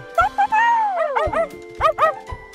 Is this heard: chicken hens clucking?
no